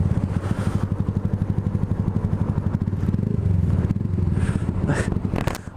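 A Yamaha R125 motorcycle idles and revs nearby with a rapid pulsing engine throb that swells in short bursts, fairly loud, with a brief background voice and some clatter near the end.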